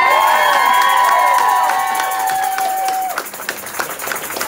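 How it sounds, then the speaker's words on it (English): Crowd at a Beto O'Rourke town hall in Norfolk, Virginia breaks into loud applause and cheering, with a sustained whistle-like tone over the first few seconds before the clapping carries on alone. "So please give him a round of applause."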